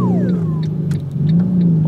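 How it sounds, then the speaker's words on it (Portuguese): A car with a broken exhaust manifold, its engine revving loud and close with a rough, throaty drone, a falling whine at the start and brief crackling bursts over the steady rumble. "Olha o barulho que tá o carro"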